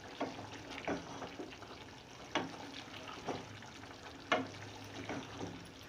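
Chicken stew is fried in a pan to dry off its water, giving a soft, steady sizzle broken by repeated scraping stirs at an irregular rhythm, fairly faint and without talk.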